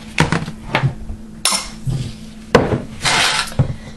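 A baking pan and other kitchen items shifted across a counter while making white chocolate and caramel blondies: a close series of clinks, knocks and scrapes of metal, glass and wood, irregular and busy, with a low steady hum underneath.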